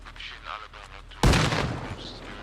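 A grenade explodes in the military game Arma Reforger, a sudden loud broadband blast that decays over about a second, following quieter game ambience and voice chatter.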